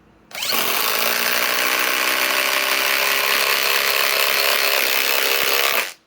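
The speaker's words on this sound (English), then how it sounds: "now let us run a 6-inch lag" A RIDGID four-mode impact driver drives a 6-inch lag screw into an existing hole in wood, a loud continuous whine with rapid hammering that starts abruptly, holds for about five seconds, then stops.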